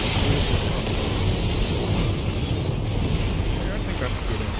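Loud, continuous roar of a town being blown apart in No More Heroes 3, a dense wall of rumbling blast noise that stays at full strength throughout.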